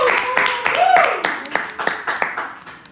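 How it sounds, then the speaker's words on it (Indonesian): Podcast guests receive a steady round of hand clapping from a small audience, with overlapping claps throughout and a gradual fade toward the end. "Boleh tepuk tangannya dong."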